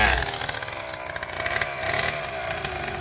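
A motorbike with a Polini engine revs and accelerates with a buzzy, rising mid-pitched whine, fairly faint and somewhat distant, continuous over a few seconds.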